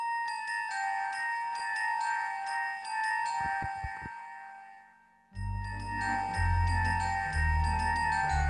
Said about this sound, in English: Hand bells.